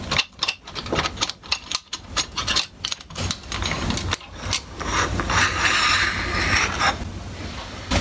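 A T-handle 6mm Allen wrench turns long screws out of a Cobra tube bender used for bicycle framebuilding, giving close, irregular metallic clicks and ratcheting scrapes that settle into a steadier grinding rasp.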